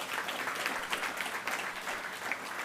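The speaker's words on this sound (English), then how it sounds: "I want you to give yourselves a big round of applause" An audience at the opening of a political party office applauds, a dense, steady wash of clapping that holds at an even level throughout with no voices standing out.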